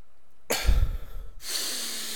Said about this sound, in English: they'll take a deep breath